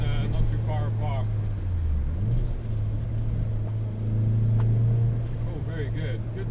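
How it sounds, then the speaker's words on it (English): Boomy engine of a classic car under way, a loud low droning hum that holds steady, dips briefly and recovers, with voices talking over it at times. "quite a boomy engine, so it encourages you to keep maybe changing up earlier than maybe you need"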